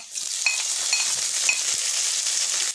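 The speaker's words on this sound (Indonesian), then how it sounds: "Ini kita tumis bumbunya sampai layu." Garlic and spice paste sautés in a pan, a steady close hiss and sizzle with a few light scraping stir sounds, no voices over it.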